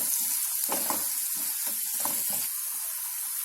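Onions with turmeric frying in a pan for chicken masala give a steady, close hiss of sizzling oil, with a few soft stirring knocks and no talk.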